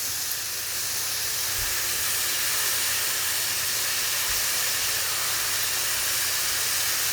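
Ham and cheese sizzle in a hot pan with a steady, even hiss that holds for the whole stretch, with a few soft low bumps and no voices.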